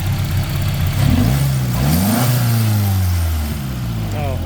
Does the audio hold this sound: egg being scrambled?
no